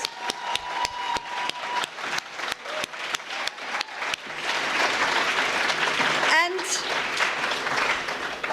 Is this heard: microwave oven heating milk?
no